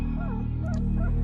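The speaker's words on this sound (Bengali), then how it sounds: "একটা কাতর গোঙানির সঙ্গে কুকুরের ডাকটা থেমে গেল।" A dog in a nighttime audio-drama scene gives a few short, wavering whimpers and yelps against a steady low hum, then goes quiet.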